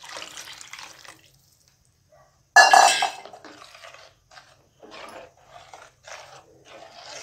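Water splashes and hisses into a hot pan of egg masala gravy in one loud burst, followed by quieter intermittent sizzling and clinking of utensils.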